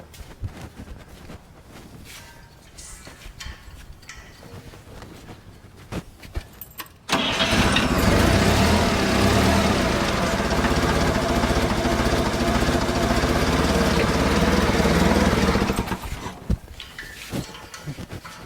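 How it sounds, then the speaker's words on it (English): An old, worn forklift raises a load, its engine running loudly and steadily close by for about eight seconds before cutting off, with quieter clanks before and after. "You got to factor in the time that the forklift drifts down because it's not new."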